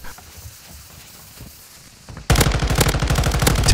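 Rapid automatic fire from a high-recoil M13C rifle in a first-person shooter game bursts in loudly after quieter ambient game sound, a dense rattling stream of shots.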